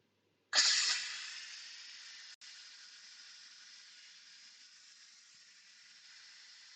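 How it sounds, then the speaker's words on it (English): Steam blasts out of an Instant Pot's valve during a quick pressure release while sausage and potato soup cooks, a sudden loud hiss that stays steady and slowly fades, with one brief break. "So as you can see, there's a lot of steam here."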